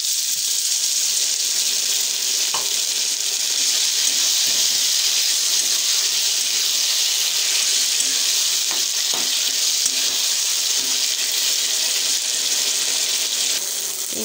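Chilli chicken sizzles and fries steadily in a hot pan after a splash of water is added, a loud, continuous crackling hiss with no talking.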